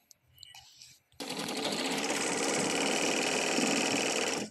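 Sewing machine stitching a blouse starts abruptly after a short quiet stretch with faint handling noise, then runs with a loud, steady, rapid whir and clatter close by until the end.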